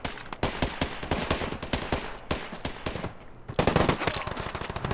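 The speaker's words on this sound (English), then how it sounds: "I like tap fire and this thing still kicks a lot" Gunfire in the mobile shooter Standoff 2: quick, loud tapped bursts of shots in a steady rhythm, a brief pause, then another dense volley, close and dominant.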